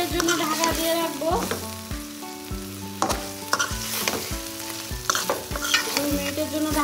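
Brain mash with egg and fried crumbs being stirred in a pan: steady sizzling with rhythmic spatula scrapes and knocks about once a second, close and fairly loud, with tonal sounds running underneath.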